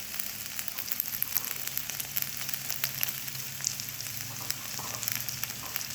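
Okra curry frying in oil with onion, curry leaves and chopped pumpkin, a close, steady sizzle with soft crackles and small pops throughout, no voices.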